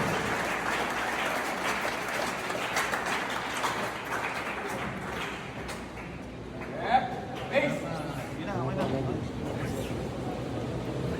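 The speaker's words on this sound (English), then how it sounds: "Let us give them a round warm of applause" An audience at a maritime school graduation ceremony gives the graduates a warm round of applause, a dense, steady wash of clapping that continues for about eleven seconds while a voice speaks over it.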